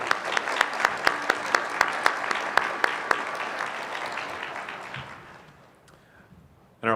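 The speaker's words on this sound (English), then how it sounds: "Let's give them one more round of applause." An audience at a regional science and engineering fair awards ceremony claps for the participants, sharp individual claps standing out over a full round of applause that gradually fades to near silence before a sudden final noise.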